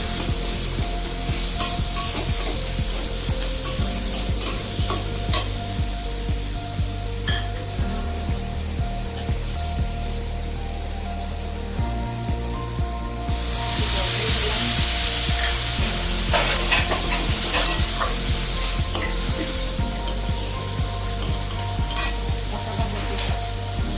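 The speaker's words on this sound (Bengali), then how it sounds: "মশলাটা কষিয়ে নেব।" Cumin paste frying in a pan for a fish curry, a loud, continuous sizzle with frequent stirring scrapes and clinks, dipping briefly before swelling into a stronger spitting hiss.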